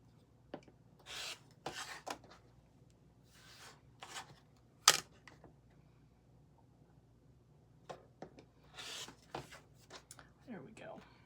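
Scissors trimming quilt fabric a quarter inch past the seam allowance, with soft intermittent snips and rustling cloth up close between quiet gaps, and a person talking now and then.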